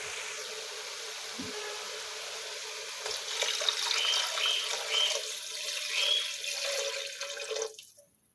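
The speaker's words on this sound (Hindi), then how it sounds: "जब गोश्त अच्छी तरह से भुन जाए तो इसमें 1 लीटर पानी डालेंगे।" Water pours steadily into a cooking pot of browned meat for several seconds, a continuous splashing rush that grows fuller midway, then stops abruptly near the end.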